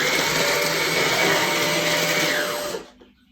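A Numatic Hetty vacuum cleaner hums steadily at close range for a few seconds, then switches off and winds down into quiet.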